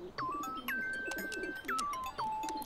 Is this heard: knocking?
no